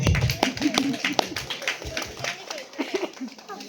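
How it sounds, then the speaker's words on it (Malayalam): Scattered hand clapping from a small audience at a neighborhood Christmas gathering, uneven claps mixed with voices talking nearby. "എല്ലാവരും കയ്യടി"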